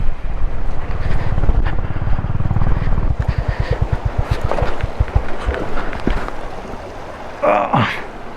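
A motorcycle rides through a water crossing on a rough mountain road between Spiti and Manali, its engine thudding in a steady rhythmic pulse under loud wind noise, with splashing and a short voice near the end.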